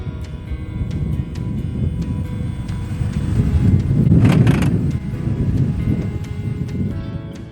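Steady, close drone of a Jeep Wrangler driving in four-wheel high on slushy pavement, with tire hiss and drivetrain hum that swells briefly midway before settling back.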